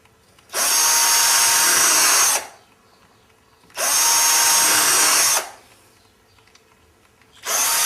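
Pilot holes are drilled into wood held in a vise using a cordless drill, producing three close, loud whirring bursts of roughly two seconds each with short quiet gaps between them.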